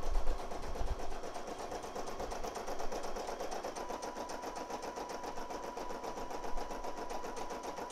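An embroidery machine stitches a neckline design, its needle chattering in a rapid, steady rhythm that runs continuously at moderate volume, close by and alone.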